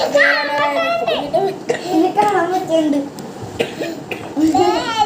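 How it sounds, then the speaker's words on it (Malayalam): Several sharp coughs from a child cut through ongoing chatter and children's voices nearby, with talk continuing between the bursts. "ചുമയാണ് കേട്ടോ."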